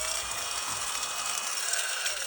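A small desk vacuum cleaner with brushes whirs steadily and fairly loudly, its rattling, ratchet-like mechanical buzz running continuously without pause.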